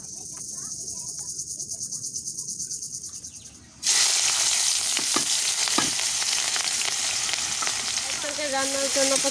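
Onions and green chillies frying in a pan, starting as a quieter crackle with a rhythmic insect-like chirp, then surging into a loud, bright, steady sizzle with occasional stirring scrapes.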